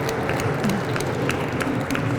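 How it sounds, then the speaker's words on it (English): An indoor audience at a city hall celebration for a local team claps under loud crowd hubbub, with individual sharp claps poking through a dense, noisy room sound. "let's give it a round of applause for those team highlights"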